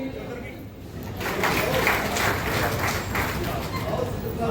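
An audience breaks into applause after a quiet moment, a dense, steady wash of many hands clapping that carries on to the end.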